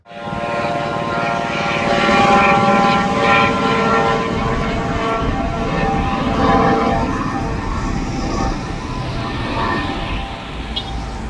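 A helicopter passing over Dubai Marina: a loud, sustained rotor and engine drone with a steady tonal hum, swelling slightly midway and holding without pause, no voices heard.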